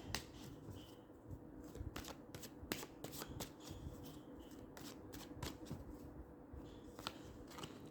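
Tarot cards being shuffled by hand, close rapid riffling and flicking bursts repeating irregularly across the stretch, quiet and without speech.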